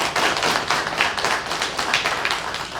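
Audience applause at a press briefing, a dense, even spread of many hands clapping that holds steady throughout, close and fairly loud with no speech.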